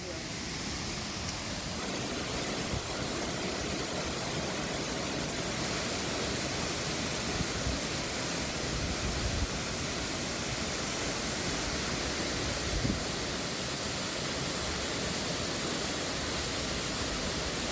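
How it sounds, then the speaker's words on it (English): A waterfall on the River Kagumo at Wamagana in Kenya roars as a broad, constant rush of water, loud and close, with a voice talking faintly underneath. "this waterfall is at Wamagana on River Kagumo"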